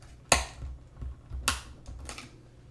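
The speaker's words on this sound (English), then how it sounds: "And we'll cut up our cinnamon sticks." A dull knife chops cinnamon sticks on a board for spiced porridge, three sharp close knocks spaced about a second apart with a low rumble underneath.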